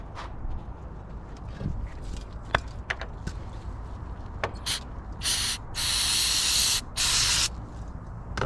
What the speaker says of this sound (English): The reason why I'm using brake cleaner.